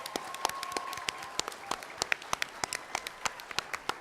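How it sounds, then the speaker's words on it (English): A convention panel audience applauds with sparse, distinct claps at a steady patter, fairly faint and without talk over it. "let's give another round of applause for Black Griffin here"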